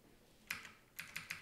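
Keys on an unresponsive computer keyboard are pressed, producing a quiet cluster of close plastic clicks. One tap comes first, then three or four quick presses in a row.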